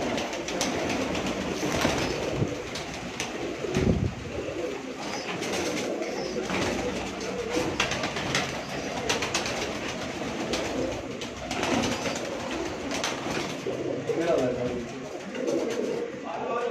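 Pigeons coo and flutter among a lively flock, with people talking nearby and a steady background rumble.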